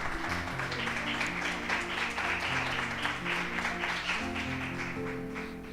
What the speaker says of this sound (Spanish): Por favor, hermanos, denle un aplauso al Señor,